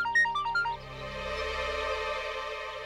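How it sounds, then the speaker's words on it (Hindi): A short electronic ringtone melody chirps at the start, then gives way to a sustained tonal hum, fairly quiet and close. "अशोक का फोन"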